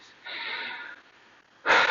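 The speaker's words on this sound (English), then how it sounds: "That heavy breathing you hear, it's not special effects. That's my heart and lungs working." Heavy breathing from someone in a plyometric HIIT yoga workout, two loud breathy bursts separated by a quieter stretch, close to the mic with no talking.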